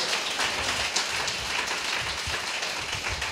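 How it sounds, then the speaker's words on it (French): Church congregation applauding during a prayer sermon, a dense continuous wash of clapping heard alone without speech. "Mes chers amis, applaudissez pour votre Dieu."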